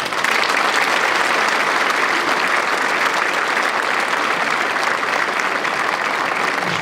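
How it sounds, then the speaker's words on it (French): An audience at a New Year's greetings ceremony applauds, dense, sustained clapping from a crowd that carries on evenly for several seconds. "Je crois que vous avez mérité quelques applaudissements."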